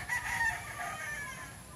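A blue game rooster crows once, a drawn-out harmonic call lasting well over a second, fairly close and clear against a quiet outdoor background with no voices.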